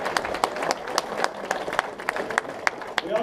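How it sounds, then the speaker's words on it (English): Banquet guests clap in a brief, moderately loud round, with distinct individual claps standing out over a lighter spattering of hands. "Applause for them all now."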